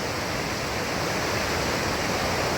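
Aber Falls waterfall crashing down from a height, heard up close as a loud, steady, broadband roar of falling water that fills the whole clip without a break.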